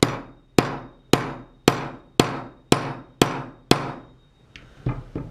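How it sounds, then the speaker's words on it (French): Hammer blows on a metal punch tool while piercing a pinhole camera's shutter, eight sharp, evenly spaced ringing strikes close by, followed by a couple of quicker, softer taps. "De marteau"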